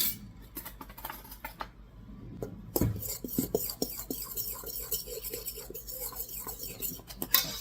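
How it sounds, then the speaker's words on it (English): A fork stirs and mixes ingredients in a bowl for vanilla wafers, making soft scraping clinks and rubbing taps close by, irregular and fairly quiet, with a sharper knock partway through. "I'm going to mix this up with a fork."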